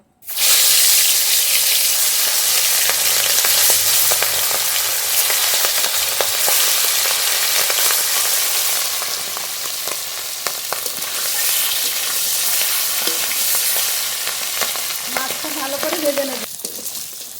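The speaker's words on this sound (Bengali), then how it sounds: "প্রথমে ইলিশ মাছগুলো ভেজে নেবো" Hilsa fish frying in mustard oil in a hot wok, a loud, dense, continuous sizzle close up with spitting crackles, softening slightly midway, and faint clinks near the end; no talk.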